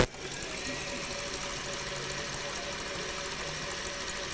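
Electric mixer whipping eggs for a strawberry tiramisu at a live cooking demonstration at a fair, a steady close whirring drone held at low speed throughout.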